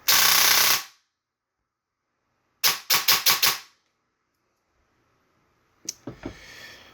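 A heavily upgraded King Arms airsoft gun fires one sharp burst, then a rapid full-auto string of about five cracks, then a shorter, fainter rattling burst, with silence between.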